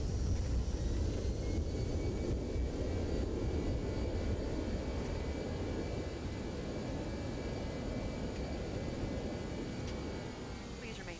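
Simulated Toliss A321neo thrust reversers roar on landing in X-Plane 12, a loud, steady jet rumble that slowly eases over several seconds.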